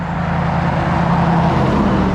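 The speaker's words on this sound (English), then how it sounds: "cadre of cars" Cars pass on a busy road in metro Atlanta on an overcast day, forming a steady, fairly loud traffic rumble with vehicles going by and no talk.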